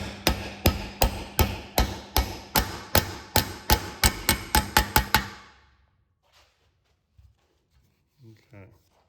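Hammer strikes on a plate driving a seal into a C3 Corvette trailing arm: about fifteen sharp metallic blows in a steady rhythm that quickens toward the end, then stops, followed by quiet shuffling.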